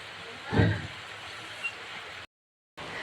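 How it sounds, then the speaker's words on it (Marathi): Steady, even hiss of rain falling, with a brief low thump early on and a short moment of silence near the end. "पाऊस पडत आहे"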